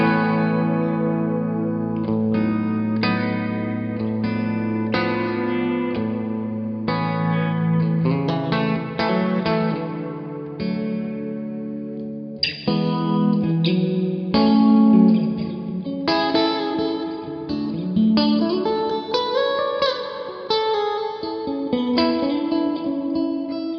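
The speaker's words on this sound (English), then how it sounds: "And finally the Hall, which sounds really beautiful." Electric guitar played through a Universal Audio UAFX pedal on its hall reverb setting, sustained chords and melodic lines blooming into a long, spacious wash, with no voices over it.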